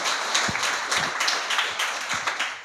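A congregation at a Sunday worship service claps hands together in a loose, uneven rhythm, moderately loud and close, with no voices over it.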